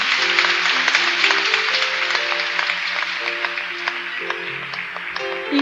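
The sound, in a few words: congregation applauding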